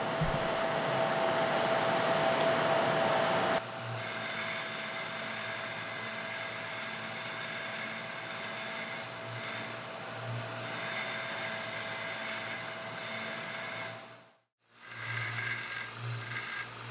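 Bench grinder in a workshop, running as a continuous loud high-pitched whine with a steady hum that briefly cuts out near the end before spinning back up.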